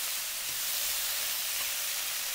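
Mushrooms stir-fried in a wok over high heat give a loud, continuous, close-up sizzling hiss with no pauses and no voices.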